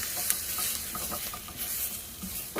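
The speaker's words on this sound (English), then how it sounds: "Actually, with the residual heat, I think the garlic will saute just fine" Garlic sautés in a pan over residual heat as the flame is shut off, giving a soft steady sizzle with light stirring taps, moderately quiet.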